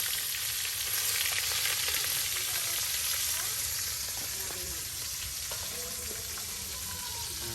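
Chopped onions frying in a pan for a village-style beef and chicken dish, giving a steady, loud, close sizzle with occasional stirring scrapes, no voices.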